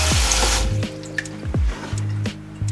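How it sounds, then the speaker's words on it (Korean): A makeup brush or sponge is rinsed under running water and squeezed out, giving a loud close wash of water with a few sharp drips and squelchy squeezes. "헹궈주고 꾹 짜서 수건위에 올려놓기"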